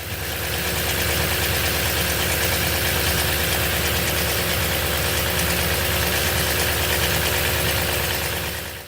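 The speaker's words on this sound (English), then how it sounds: "there is a ticking sound from the driver's side from the timing chain" Toyota's last V8 engine idling cold, with a ticking from the driver's-side timing chain tensioner, heard as a steady, close, dense running drone with a fast rhythmic tick throughout.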